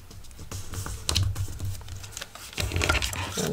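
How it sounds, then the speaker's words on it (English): Folded paper for a six-pocket wallet made from one letter-size sheet is pressed into a tight crease with a bone folder, producing close, continuous scraping and crinkling strokes without talk. "let's bone fold that in, get a nice tight crease"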